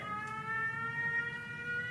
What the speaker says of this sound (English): It wasn't the notes of the trumpet, it was an air raid siren.